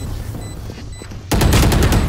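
Gunfire in a video game match: a low rumble, then a sudden loud burst of rapid automatic shots, close and continuous to the end.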